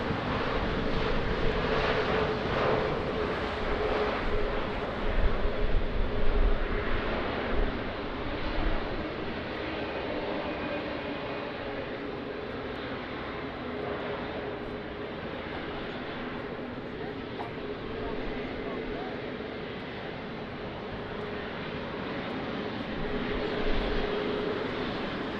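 An airplane's engines rumble at Lisbon Airport in wind and rain, a steady broad roar lasting throughout with wind noise buffeting the microphone, while radio voices talk over it.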